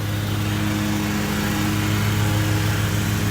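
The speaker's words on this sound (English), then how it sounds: "Mower is passing, give me a second." A lawn mower engine drones loud and steady nearby the whole time, a continuous low hum with no talking.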